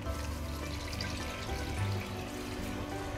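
Water poured into a cooking pot holding rice for chicken yakhni pulao, a steady, fairly faint stream running without pause throughout, with no voices over it.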